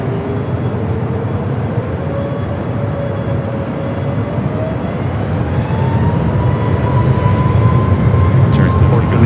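A Southwest airliner takes off from LAX runway 24 left, a loud continuous jet roar with a rising engine whine that swells steadily, heard from nearby.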